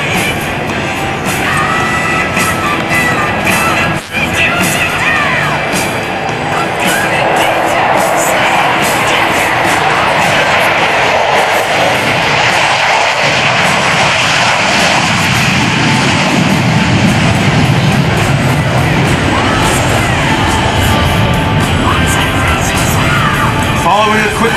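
An F-14 Tomcat jet roars over NAS Oceana during a 2004 airshow, a loud sustained engine rumble that builds and holds through the pass, with a crowd cheering and an announcer speaking over it.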